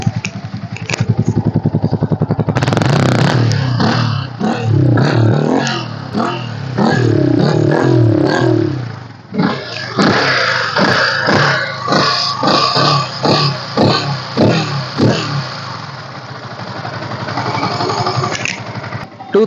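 A single-owner 2013 Yamaha R15 V2 sport motorcycle engine is revved hard and close by in repeated bursts, with sharp throttle blips and clattering mechanical noise between the rises.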